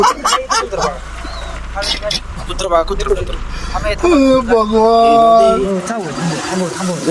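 Dogs barking and yelping on a road, with several sharp barks and whining cries close by, mixed with people's voices and some background traffic.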